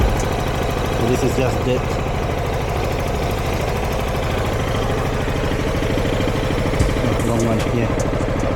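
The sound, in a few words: Yamaha XMAX 300 scooter engine idling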